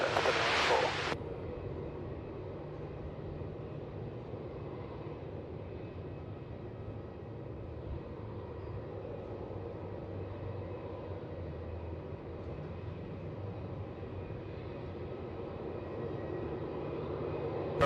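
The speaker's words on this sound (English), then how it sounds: "Seven 94, runway 27, cleared for takeoff." A jet taking off from runway 27 at Melbourne Airport, heard as a steady, broad engine roar from a distance that holds evenly and swells slightly toward the end, with no talk over it.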